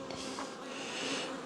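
Dense, continuous buzzing of many bees crowded over open and capped syrup frames inside a hive being split into nucs, steady and close with no talk.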